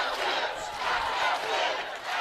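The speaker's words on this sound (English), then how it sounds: "This is a very rowdy crowd." Rowdy crowd at an NCAA college softball tournament game, Michigan versus James Madison: a loud, continuous roar of many voices yelling and chanting together, swelling and dipping in waves.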